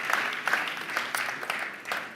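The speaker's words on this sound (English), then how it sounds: "Please, round of applause for Scotland" Audience applause at the Guinness Men's Six Nations launch event in Edinburgh, a soft, steady patter of many hands clapping at a moderate distance, with no voices standing out.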